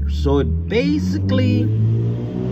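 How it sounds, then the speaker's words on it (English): A loud car drives past outdoors, its engine rumble low and steady across the whole stretch while someone talks over it. "Oh, that car is so noisy."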